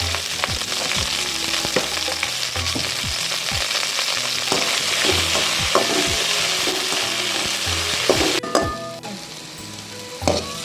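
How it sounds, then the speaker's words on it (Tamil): Onions and okra sautéing in a pan, with a steady close sizzle broken by repeated scraping and clanking spatula strokes against the pan, and no talking. "வெங்காயத்துக்கு தேவையான உப்பு போட்டு நல்லா ட்ரையாக வதக்கலாம்"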